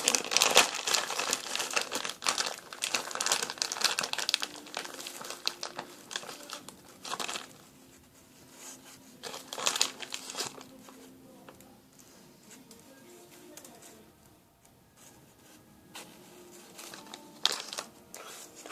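Scotch tape crinkles and rustles close up while a miniature cream decoration is made, loud crackling bursts at first, then sparser, softer handling sounds with a few quiet ticks.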